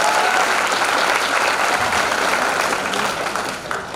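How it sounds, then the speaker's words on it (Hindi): A room full of people giving loud sustained applause for a respected senior official at a health department gathering, steady clapping that tapers slightly at the end. "जोरदार ताली कारक सर के लिए हो जाए"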